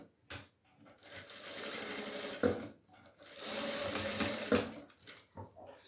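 Sewing machine stitching small fabric doll pieces on a fine, short stitch setting, running in two sustained close bursts with a brief pause between them and light clicks at the stops.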